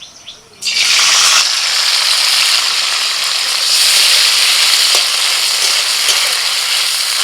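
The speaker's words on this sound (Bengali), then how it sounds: "কড়াইতে একটু সর্ষের তেল দিয়ে দিচ্ছি তেলের মধ্যে দিয়ে দিচ্ছি বরবটি কলাই" Yardlong beans drop into hot mustard oil in a wok and burst into a loud, close sizzle that starts suddenly and keeps hissing steadily.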